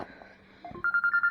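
A phone alarm begins after a few faint clicks, sounding a quick series of repeated electronic beeps in a steady pulsing rhythm.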